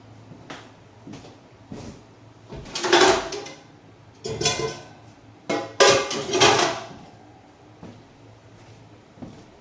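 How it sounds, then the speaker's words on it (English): Metal cookware clattering in a kitchen as a sauté pan is pulled out, several bursts of rattling and banging pans with brief knocks between, close and moderately loud, no talking. "I'm gonna get my saute pan."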